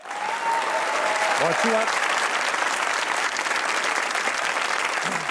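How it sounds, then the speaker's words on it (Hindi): A studio audience on the Pakistani talk show Hasna Mana Hai applauds in a dense, steady wash that fills the whole stretch, with someone speaking briefly over it. "अगर आप लोग भी दूसरों को खुश देखना चाहते हैं तो तालियां बजाइए।"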